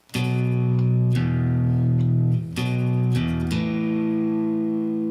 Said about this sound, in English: with the clean guitar sound